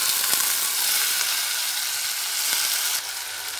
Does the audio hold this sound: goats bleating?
no